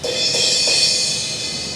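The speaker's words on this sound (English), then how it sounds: "The medium thin crash." A Zildjian medium thin crash cymbal from the 2013 series rings with a bright, shimmering sustain, lightly re-struck a couple of times as the wash holds steady and slowly decays.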